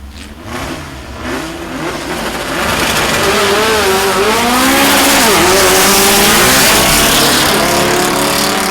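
A little red VW drag car accelerates hard down the strip at Mason Dixon Dragway's VW Nationals, the engine note swelling from a rough rumble into loud, wavering high revs with hitches around the gear changes, close and continuous.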